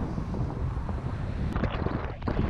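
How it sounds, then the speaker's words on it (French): Crosswind rushing over a glider in flight, a loud, steady roar of wind buffeting the microphone with gusty surges and rustling, close and continuous with no talking. "là c'est carrément du vent de travers et j'avance pas, je suis collé dans la brise"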